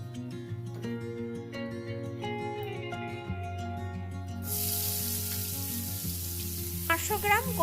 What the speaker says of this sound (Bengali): তেলটা ভালোভাবে গরম হয়ে গেলে তারপর চিংড়ি মাছগুলো ভেজে নেব।